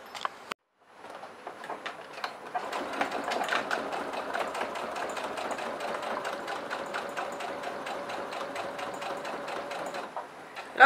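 A sewing machine with a Teflon foot runs a straight-stitch topstitch 5 mm from the fabric edge at stitch length 3.5. It starts after a brief click and hums with a fast, even rattle at close range.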